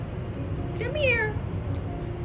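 A mother cat, a community cat in a business area, gives one short, rising-then-falling meow at close range over a low constant background hum.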